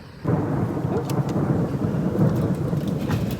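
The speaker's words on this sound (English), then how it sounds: "The storm is a-coming. It's rolling in." Thunder from an approaching storm at a rural homestead, a deep continuous rumble rolling in and sustained for several seconds with a rain-like hiss layered over it, loud and without speech.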